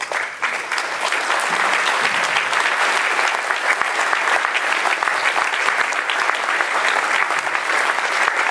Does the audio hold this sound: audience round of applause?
yes